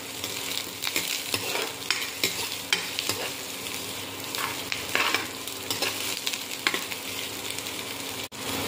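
Garlic sautéing in a pan for ginisang monggo, a dense, continuous sizzle broken by repeated scraping strokes of a stirring utensil, loud and close with no talking.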